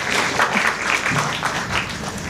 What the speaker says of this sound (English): A big round of applause for Mrs. Banerjee.